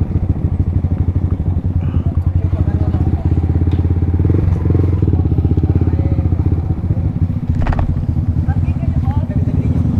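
A motorcycle engine putters steadily and close up for the whole stretch near Wawa Dam, with a brief voice and some clatter over the running motor.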